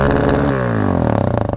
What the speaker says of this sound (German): Jetzt testen wir mal, wenn man hochdreht,